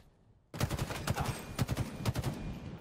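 Gunfire from an online shooter video game starts abruptly after a short quiet moment, then runs as a rapid string of loud, sharp shots in bursts for over two seconds.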